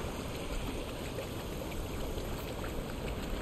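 A waterfall in the video game Conan Exiles gives off a soft, continuous rushing wash of water, steady and fairly faint, with no speech over it.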